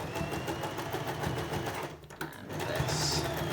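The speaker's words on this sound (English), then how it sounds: "Just going to lower the needle. Pick up the foot, press it down." A sewing machine stitches fabric for a face covering, a close steady mechanical whirr that briefly stops and restarts, with talking over it.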